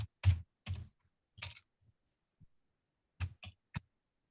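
Bursts of computer keyboard typing as an email address is entered: quick clusters of clicks, a few short runs with gaps between, close and clear with no talking.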